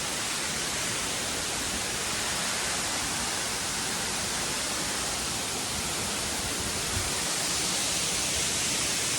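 Namuang Waterfall on Koh Samui, set in jungle, produces a steady, dense rush of falling water, a constant broadband hiss with no breaks, heard from a moderate distance without any voices.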